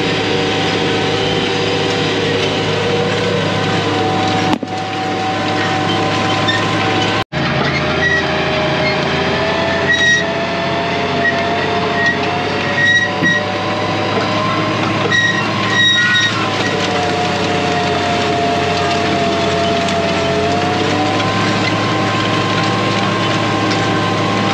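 An old International 1086 tractor working ground on duals without the differential lock, a loud steady engine drone with a constant mechanical hum that stays close throughout, broken only by a brief dropout.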